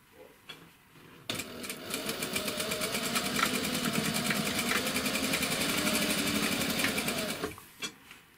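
A domestic sewing machine stitches a seam, giving a close, steady, fast rhythmic whir that runs about six seconds before stopping, with no talking.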